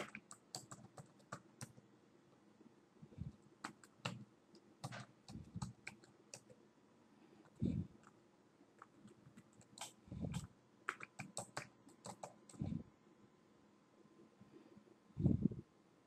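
Bursts of typing on a computer keyboard while an email address is entered for a Mastercard application, with quick clustered key clicks separated by short pauses and a few heavier thumps, close up and with no talk.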